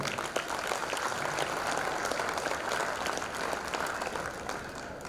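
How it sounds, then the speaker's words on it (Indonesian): An audience at a 2023 team gathering meeting applauds, with dense, steady clapping filling the room for several seconds at moderate volume and faint voices underneath. "Beri aplaus dong buat bapaknya."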